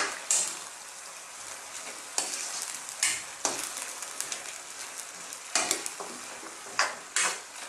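Cabbage frying with ground beef gets stirred in a hot pan, a soft sizzle broken by irregular scraping strokes and bursts as the utensil moves through the food, close and without talk.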